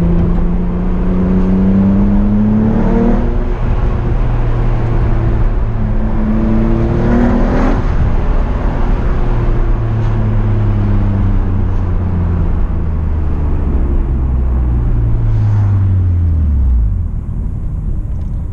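A Mitsubishi Eclipse engine revs and accelerates loudly nearby, pitch climbing repeatedly through gear changes before fading slightly at the end.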